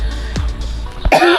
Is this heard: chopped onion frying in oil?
no